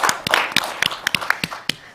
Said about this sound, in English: I really think they deserve a warm round of applause